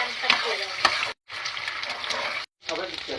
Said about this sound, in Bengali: ডিম 2টা সুন্দরভাবে ভেজে নিব।